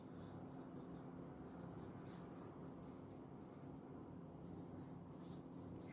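Writing on a board during a second-grade lesson about money, a continuous faint scratching stroke sound with no talking, steady throughout and at moderate distance.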